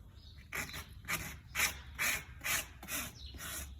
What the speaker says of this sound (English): So now I'm going to rasp first.